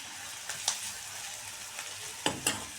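Dosa filling seasoned with turmeric and salt being sautéed in a pan: a steady soft sizzle with a few sharp spatula scrapes and taps, close by, no voices.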